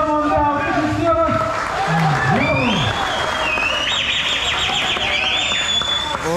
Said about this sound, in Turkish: Güzel yetiştiricilerine kocaman bir alkış istiyoruz.